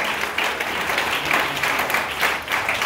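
A church congregation applauds, a dense, sustained wash of many hands clapping at once, loud and even for the full stretch.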